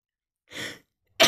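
A single sneeze or cough from someone with allergies, sharp and close, followed after a short pause by a second loud burst at the end.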